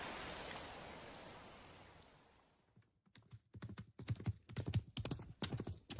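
Horse hooves clip-clopping in a Zelda video game, a steady trotting patter that starts after a fading wash of hiss and grows louder and more even toward the end.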